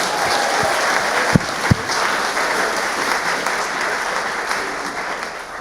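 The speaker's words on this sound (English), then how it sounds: "Let's give a round of applause." An audience at a Friday Shabbat service celebrating Pride Month claps steadily, a dense, sustained round of applause with a couple of sharper single claps standing out near the start.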